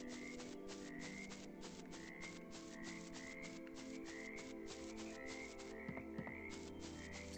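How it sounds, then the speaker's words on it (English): Frogs croak in a dense, repeating chorus in the Chained Echoes video game, layered with higher chirping calls over a steady ambient background, and no one speaks. "Sounds like there's a lot of frogs in and around this area. You can hear them ribbit, ribbit, ribbit."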